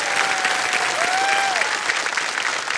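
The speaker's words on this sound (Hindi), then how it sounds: "तो एक बार फिर जोरदार तालियां हमारे आज के विशेष कार्यक्रम के दो मेहमानों के लिए।" A studio audience applauds two guest singers on the Hindi TV quiz show Kaun Banega Crorepati, with dense, steady clapping filling the whole stretch at an even loudness.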